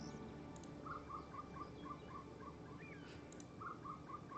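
A silvereye call played in the Wingspan board game, a quiet run of soft, evenly spaced chirping notes that repeats after a short pause, faint over a steady background hum.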